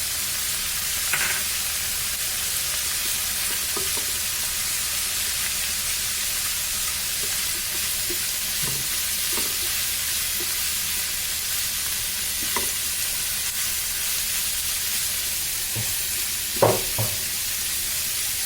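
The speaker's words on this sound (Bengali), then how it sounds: "খুব ভালো করে ভাজা ভাজা হবে, ততক্ষণ পর্যন্ত আমরা এটাকে নাড়বো" Pointed gourd sizzles steadily in a hot pan, with occasional faint scrapes and taps of a spatula stirring.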